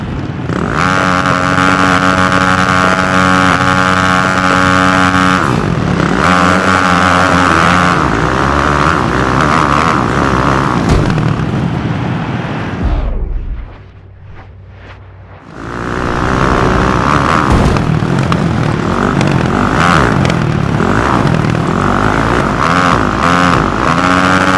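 Several dirt bike engines rev loudly and continuously at the gate of a Honda supercross race in St. Louis in a video game, the roar briefly dropping away before surging back, with no talk.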